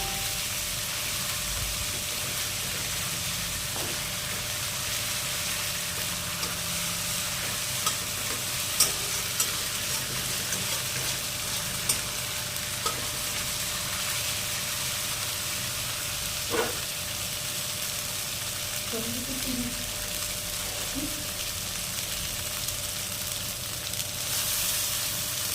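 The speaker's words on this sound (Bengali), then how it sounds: "টমেটোটা তেলের মধ্যে ভালো করে নেড়ে নিচ্ছে" Chopped tomato fries in hot oil with ginger-cumin paste and panch phoron while a spoon stirs it, a steady dense sizzle throughout with occasional scrapes and clinks of the spoon, close up and without talk.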